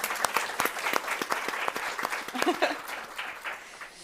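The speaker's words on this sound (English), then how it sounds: "Applause is absolutely welcome." Audience applause at a community event on British identity, scattered and fairly sparse clapping from a modest crowd at low volume, uneven and thinning out, with a brief voice murmuring partway through.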